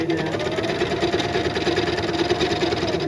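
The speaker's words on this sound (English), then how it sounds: "I'll just sew across like I would for a dress" A sewing machine runs continuously while stitching across a shirred-waist skirt panel, a close, steady mechanical hum with a fast, even needle rhythm throughout.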